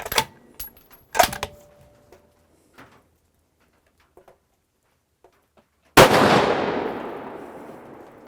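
A rifle fitted with an Area 419 Maverick suppressor fires a single sharp shot on a range, with a long decaying report after several seconds of faint clicks and handling noises.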